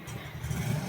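Yamaha Mio Soul 125 scooter engine, freshly refreshed back to stock with a 59mm bore, revving briefly close by, a low steady drone rising slightly in the final moment.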